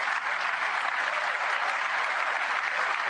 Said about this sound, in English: We have to sit through another round of applause for the Congressional Medal of Honor winners.